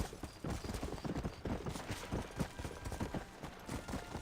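Horse hooves clip-clop steadily in a video game, a dense run of quick, close impacts carrying on throughout with no talk.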